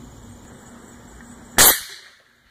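A QEV air rifle firing a .1 g pellet into a water-filled soda can gives one sharp, loud crack with a brief metallic ring. Quiet background comes before it and the sound fades fast.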